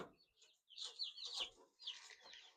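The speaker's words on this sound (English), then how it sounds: "We just got these chicks. They're 2 days old." Two-day-old broiler chicks chirping in a box, a close cluster of high, rapid peeps rising in short bursts with brief pauses between.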